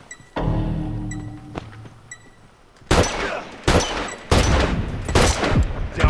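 Gunfire in an online match of The Last of Us: a sustained burst of shots, then a pause and several loud, sharp volleys in quick succession, close and forceful.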